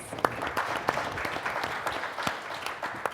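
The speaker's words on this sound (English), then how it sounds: "Big round of applause." Applause from a conference audience at an online video summit for a panel organizer, continuous clapping with several crisp nearby claps standing out over the general crowd.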